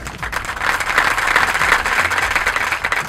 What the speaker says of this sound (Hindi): आपकी बहुत सारी तालियों में